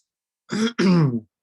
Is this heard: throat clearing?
yes